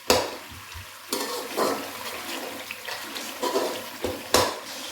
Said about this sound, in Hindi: हल्का सा फ्राई करने के बाद हमने इसमें टमाटर ऐड कर दिए हैं